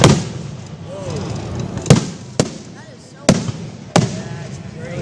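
Fireworks burst at an outdoor display in Putnam, Connecticut: four sharp booms at irregular intervals, crackling and whistling between them, heard from a moderate distance beneath scattered chatter from onlookers.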